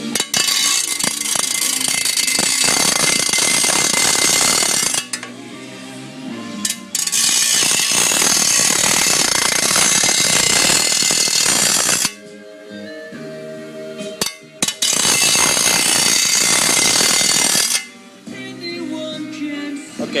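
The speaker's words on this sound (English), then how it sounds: "let's sharpen up this blade on this spade." Harsh, loud grinding on the blade of a garden spade in long bursts with short pauses between, the abrasive whine rising and dropping as each pass starts and stops.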